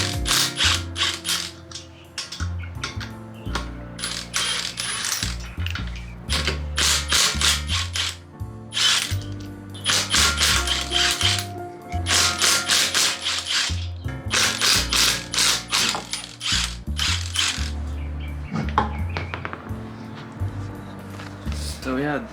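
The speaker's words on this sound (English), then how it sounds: "I'm gonna start by taking off the wheels." Ratchet wrench clicks in repeated rapid bursts while lug nuts come off the wheels of an Infiniti G37, close and loud, with brief pauses between runs and occasional talk.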